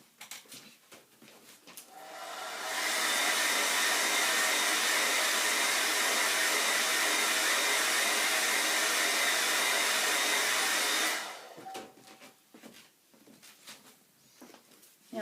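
A hair dryer runs steadily for about eight seconds to dry alcohol ink artwork, a loud broadband whoosh that starts and stops abruptly, with quiet handling sounds before and after.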